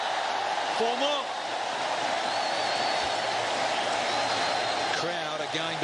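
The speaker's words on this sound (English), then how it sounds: "Crowd are going berserk. They're loving this." Cricket stadium crowd at a World Cup match between Bangladesh and South Africa roaring in a sustained wash of cheers and noise, with a commentator talking over it.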